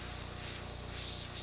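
An airbrush sprays paint onto a board in one steady, unbroken hiss, close and even from start to finish.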